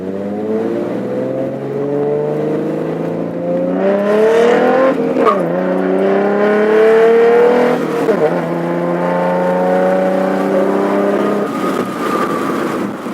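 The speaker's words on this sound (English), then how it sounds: "We'll do a little 0 to 60 run." A 2012 Ford Mustang V6 revving hard through several gear changes in a 0 to 60 run, its pitch climbing, dropping, and climbing again as it accelerates, loud and close.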